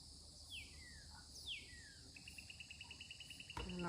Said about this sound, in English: There's a really loud bird over there.